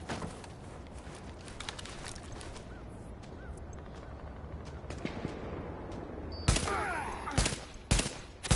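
Gunfire in The Division, set in a city park stronghold: a steady crackle of distant shots runs throughout, and a few louder, closer bangs break through near the end.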